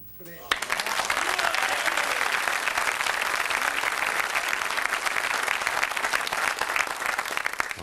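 A 1985 snooker crowd at the Cockney Classic bursting into applause after a shot, sudden loud dense clapping that starts abruptly and holds steady for several seconds, with a commentator's voice faintly beneath.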